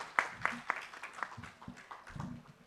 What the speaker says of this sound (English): तालियों के साथ आपका स्वागत करेंगे